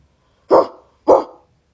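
Two short, loud, throaty growl-barks from a person imitating an animal, voiced from the back of the throat, each burst separated by a brief pause.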